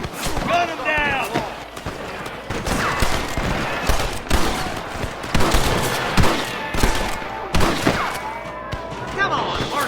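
Gunfire from the Western video game Red Dead Redemption, with rapid bursts of shots and sharp single cracks layered over galloping hooves and shouting voices, loud and dense throughout.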